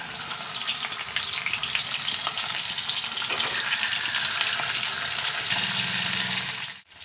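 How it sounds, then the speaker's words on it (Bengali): Fish frying in hot mustard oil in a wok, a loud steady sizzle and crackle that holds throughout before cutting off abruptly at the very end. "তেলটা খুব ভালো করে গরম হয়ে গেলে মাছগুলো তেলের মধ্যে দিয়ে ভেজে নেব।"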